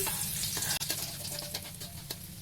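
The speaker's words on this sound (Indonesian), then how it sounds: "pertama-tama awak tumis dulu bawang merah, bawang putih sampai harum." Shallots, garlic and soup leaves sautéing in hot oil, a dense close crackling sizzle broken by quick scraping stir strokes.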